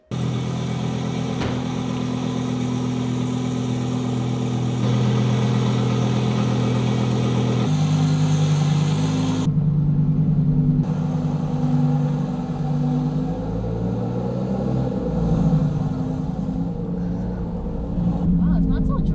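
Twin-turbo 1200 HP Lamborghini Super Trofeo engine droning steadily from inside the cabin, a low sustained hum with shifting pitch as it runs, while people chat over it throughout.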